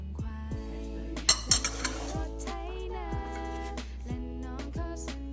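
Ripe banana mixed with olive oil being mashed finely in a bowl, heard as steady scraping and clinking of a utensil against the dish, close by, with a few louder knocks.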